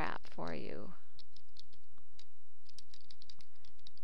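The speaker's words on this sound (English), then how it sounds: "And then you just start typing." Keys on a computer keyboard are typed in a quick, steady run of light clicks after a brief burst of speech at the start, recorded close with a quiet room behind it.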